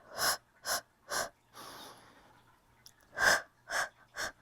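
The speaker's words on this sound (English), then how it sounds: "Inhale and exhale" Someone doing an intense abdominal workout breathes hard and close up, with a run of sharp, forceful exhales spaced about half a second apart. Between them comes one longer, softer breath, and then three more strong bursts.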